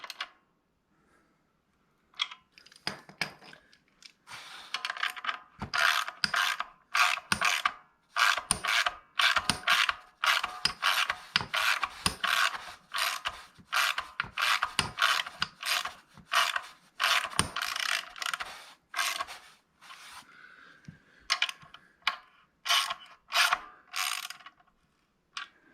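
Ratchet tightening bolts on a clutch pressure plate for a 472 Cadillac with a T56 six-speed, loud close rapid clicking in repeated bursts with brief pauses, alone without talk.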